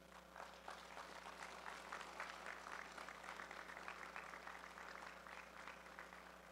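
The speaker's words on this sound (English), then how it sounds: "a big round of applause for Mr. Mike Nichols" Crowd applause at a powerlifting competition, a dense patter of clapping sustained throughout, fairly distant with a faint hum underneath.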